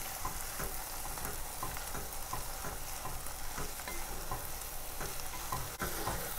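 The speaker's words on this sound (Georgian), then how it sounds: "დავამატებ ნიორს და დაახლოებით 2-3 წუთი მოითუშავ" Garlic sautéing in a pan for French onion soup, a steady close sizzle and frying crackle with faint stirring scrapes running throughout, no voices.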